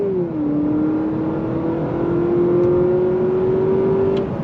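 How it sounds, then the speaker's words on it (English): A 2025 Honda Accord Sport Touring hybrid pulls away from a dead stop, its engine drone rising steadily in a smooth whine with simulated shifts, loud and continuous from inside the cabin. "we're going to go on throttle from a dead stop here"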